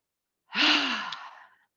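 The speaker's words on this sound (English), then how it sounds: "That's an energizing breath." One long exhaled breath during an energizing yoga exercise, a breathy airy "ha" sigh that rises quickly and then fades over about a second, close and alone.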